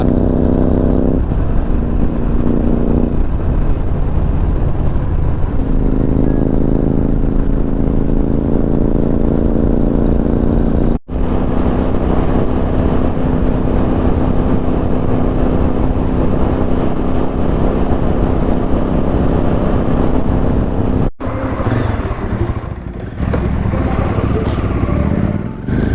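Royal Enfield Super Meteor 650 motorcycle on a road trip from Delhi to Ajmer, engine running loud and steady with a continuous low drone and shifting tone, briefly cut twice, with wind and road noise throughout.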